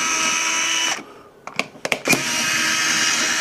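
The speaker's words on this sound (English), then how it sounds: "we got 1, 2, 3, 4 Phillips screws. And I really love this screwdriver." A small electric screwdriver whirs in short bursts as it backs Phillips screws out of a multimeter, several brief close buzzes between steady motor-like background noise.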